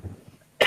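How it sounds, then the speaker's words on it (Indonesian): A single sharp cough bursts out near the end, close and loud after a moment of near quiet. "biar nggak batuk-batuk"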